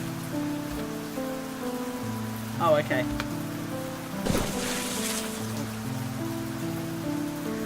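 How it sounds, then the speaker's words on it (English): Steady rain falling in the Fallstreak video game, a continuous even patter running throughout beneath game music tones, with a brief spoken remark and a couple of short louder bursts partway through. "it's raining"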